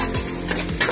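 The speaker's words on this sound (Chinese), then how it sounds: "安迪放虾饼、虾，放粿条进去，然后随便的翻炒一下" A metal spatula clanks and scrapes against a wok while shrimp cakes, shrimp and kway teow are tossed for char kuey teow in Bagan Datuk, Malaysia: a few quick, close metallic knocks over a hot background hiss.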